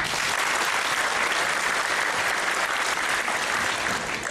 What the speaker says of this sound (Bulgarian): още веднъж аплодисменти